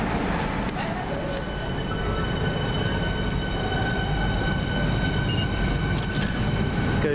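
Class 395 electric train unit 395013 running through Stratford International station on a service to Faversham from London St Pancras, a steady loud rail rumble with whining tones, held throughout the stretch.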